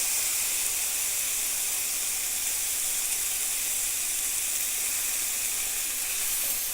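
Steady, loud sizzling and hissing of bacon frying in a hot pan, a continuous crackling spatter with no pauses.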